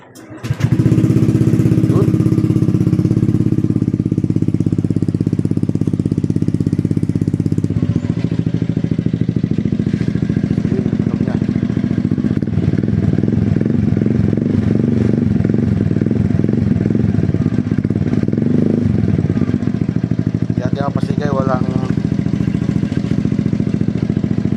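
A motorcycle fitted with a Semi Evo 44 mm exhaust tip fires up and runs loud and close, its engine rising and falling through repeated revs over a rough, throbbing idle for about twenty seconds.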